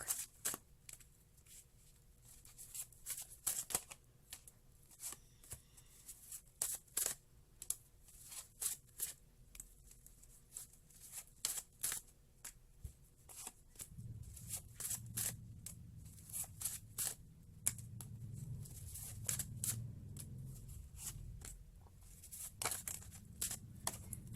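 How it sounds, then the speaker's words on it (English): Close, crisp riffling and snapping of cards repeats in bursts over a long stretch, with soft rustling and a low rumble joining midway. "One more shuffle, they say."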